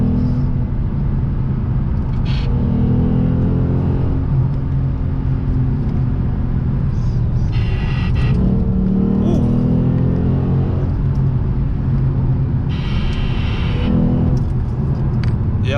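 A Lexus RC F V8 cruising on the road, a loud, steady low engine rumble inside the cabin with slight swells and whirring, continuous throughout with no clear talking.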